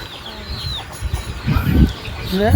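Country chickens at a farm, with a large rooster among them, clucking in short, close bursts over a low background of movement and scratching.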